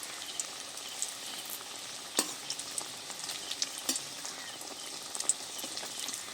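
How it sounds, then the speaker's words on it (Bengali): Flour-and-potato snacks deep-frying in hot oil give a steady, dense sizzle and crackle throughout, with a few sharper pops and faint stirring scrapes as pieces are turned. "সব পিঠ ঘুরিয়ে ভেজে নেব"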